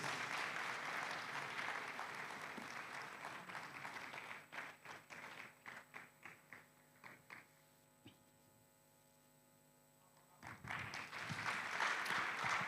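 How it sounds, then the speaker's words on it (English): Audience clapping for award winners at a conference closing ceremony, starting as a broad wash of applause, thinning into scattered separate claps, pausing over a steady electrical hum, then swelling back into full applause. "let's clap for them, please"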